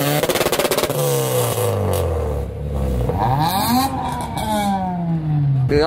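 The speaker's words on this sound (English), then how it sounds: "Nah, he's got a two-step right now." Car engine on a two-step launch limiter at a car meet, revving in loud, rising and falling sweeps with choppy popping bursts, close and continuous throughout.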